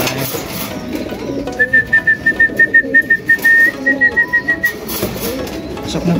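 A person whistles a long, steady call to pigeons at feeding time in a loft, followed by a string of short rhythmic whistle bursts, with bird coos and faint background bustle underneath.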